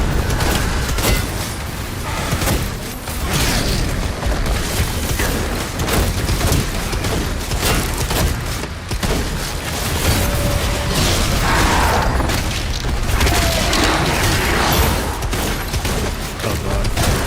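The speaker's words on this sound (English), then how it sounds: "Function kind of like a ball gun in the hand. Just a hand-sized cannon." Weapon fire in Doom The Dark Ages from a hand-held cannon, heard as dense, loud, continuous booming blasts and rapid bursts mixed with crashing game combat noise throughout.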